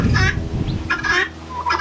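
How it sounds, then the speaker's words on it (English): Chickens in a goat barn give short clucking calls in a couple of separate bursts, close by, over low rumbling background noise. "these are the three black chickens"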